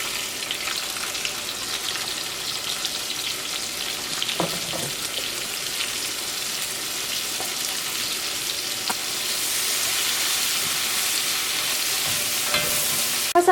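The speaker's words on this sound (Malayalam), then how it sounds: "ഈ ചൂടായ ഓയിലിലേക്ക് സ്ലൈസ് ചെയ്ത് വെച്ചേക്കണ സവോളയും ചതച്ച് വെച്ചേക്കണ ഇഞ്ചിയും വെളുത്തുള്ളിയും പിന്നെ പച്ചമുളകും ചേർക്കുക" Sliced onion, crushed ginger and garlic, and green chili frying in hot oil for Kerala chicken roast, a steady crackling sizzle with occasional stirring clicks, growing hissier in the latter half.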